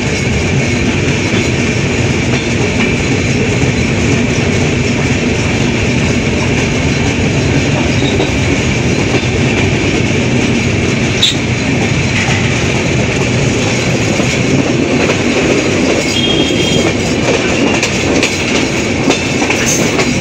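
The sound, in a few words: train running on rails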